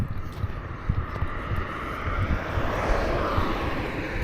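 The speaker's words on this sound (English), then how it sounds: "I think the Chinook is correct." A Chinook helicopter passing overhead, a broad roaring engine and rotor rumble that swells steadily louder across the stretch, with no talk.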